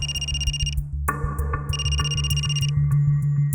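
A telephone rings in a Crime Patrol crime drama scene, giving repeated bright electronic ringtone bursts in a steady pattern over a low background hum, clear and close with no talking.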